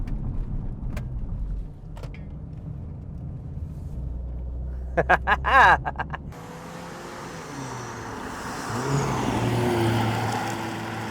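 A 2020 Mercedes-AMG GLA45 S 4MATIC+ engine rumbles steadily from inside the car, with a brief burst of revving and rising roar plus road and wind noise.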